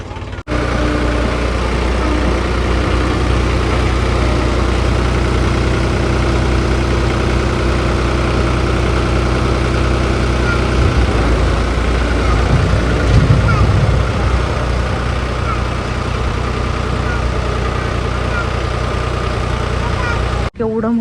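A tractor engine idles steadily at night on a farm with a deep, continuous low rumble that holds at an even level for the whole stretch.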